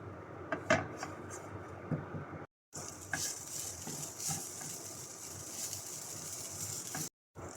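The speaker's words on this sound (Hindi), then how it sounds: "इन मसालों को डालकर इन मसालों को 1 से 2 मिनट अच्छी तरह से भून लेंगे" Spices being stirred and roasted with chicken keema in a pan, a soft steady sizzle under scraping and clinking of a spoon against metal, with two brief gaps of silence.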